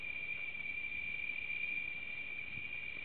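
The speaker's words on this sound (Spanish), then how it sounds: "¿Por qué están las chicharras así?" Chicharras, cicadas at a levee in summer, keep up a steady, unbroken high buzz at moderate volume for the whole stretch, with no voices over it.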